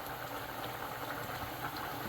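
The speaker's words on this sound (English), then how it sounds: "So let that boil for a little bit." A pot of pepper steak and onion stew with carrots bubbles on the stove, giving a constant, close, hissing, churning boil with no voices.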